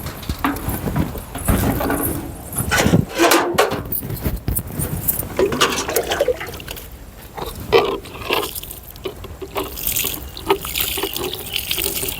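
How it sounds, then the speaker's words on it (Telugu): Water splashes and gushes in uneven bursts, poured from a bucket onto garden plant beds, with rustling and handling noises between pours. "ఈసారి బకెట్తో వాటర్ తెస్తాను"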